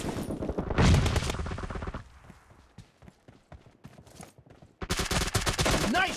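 Rapid gunfire in a PUBG Mobile Domination mode match: two loud, dense volleys of automatic shots open and close the stretch, with sparser, quieter shots and game clatter scattered between them.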